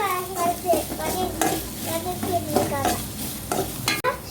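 Chopped onions frying and being stirred in a hot pan for brinjal masala, a steady close sizzle broken by repeated scraping strokes of a spoon against the pan.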